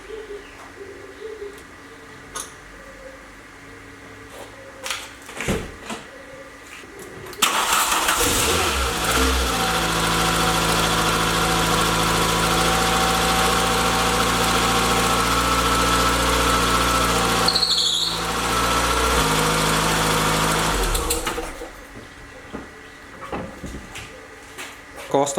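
A VW Mk1 Citi Golf, its engine bay freshly washed and its belt wet, cranks and catches at once, then idles steadily for about fourteen seconds with a faint belt whine before shutting off. Quieter background sounds come before and after.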